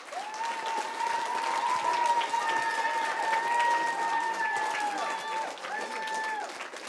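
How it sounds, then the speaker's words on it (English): A school audience at a parish Christmas play applauds its principal, a steady wash of clapping for about seven seconds with sustained cheering or whooping voices riding on top. "So let's give him a round of applause."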